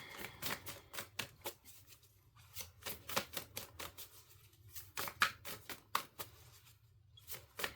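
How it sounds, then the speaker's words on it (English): Cards being shuffled and pulled from a deck during a reading, a quiet run of crisp flicking and riffling snaps in irregular bursts with short pauses, close and soft, no talk. "Let's pull some more cards and see what else we have."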